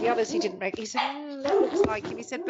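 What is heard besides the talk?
dog barking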